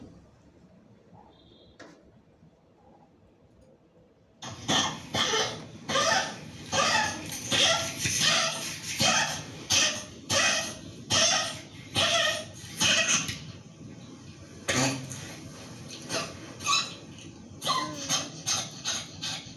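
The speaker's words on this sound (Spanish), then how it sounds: "una prueba para saber si el perro tose y qué tanto tose, y se llama reflejo tosígeno" A dog coughs repeatedly during a tracheal compression cough reflex test on the cervical trachea, a burst of loud, harsh coughs in quick rhythmic succession after a quiet start, with a short pause before more coughing.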